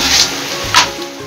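Rice noodles with chicken for Nepali-style chow mein sizzle in a hot pan as they are stirred, with a brief scraping stir near the middle of the short burst of frying.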